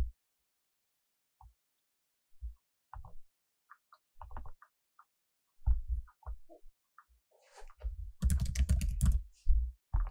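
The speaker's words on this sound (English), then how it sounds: "And just typing user here." Scattered keystrokes on a computer keyboard, sparse at first, then a quicker flurry of typing near the end, close and quiet.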